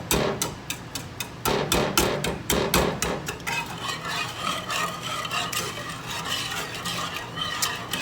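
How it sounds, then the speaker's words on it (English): Lemon and butter mixture whisked in a pot, a run of sharp rapid metallic taps at first, then a continuous scraping and rattling stir that carries on at an even pace. "So we're just going to be whisking this continually for the next 15 minutes."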